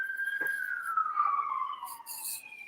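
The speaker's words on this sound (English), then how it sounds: "you can hear the sirens" A police siren outside a building, heard indoors from a hallway as a single gliding wail that falls slowly in pitch, moderately faint and alone, with a brief click partway through.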